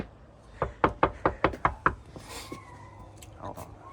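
Seven quick, sharp knocks on a door, close and evenly spaced, followed by quiet shuffling and a brief voice.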